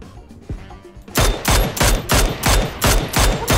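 Rapid bursts of gunfire in a battle royale shooter, about seven loud, evenly spaced volleys after a quiet first second, close and dominant with no talk over them.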